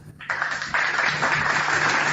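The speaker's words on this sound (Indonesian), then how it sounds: "Iblis tepuk tangan." Applause from a crowd, dense hand clapping that swells quickly after a brief start and holds steady at a loud level.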